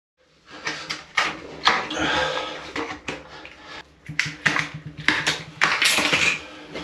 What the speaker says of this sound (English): Let's get the silicone scraped off.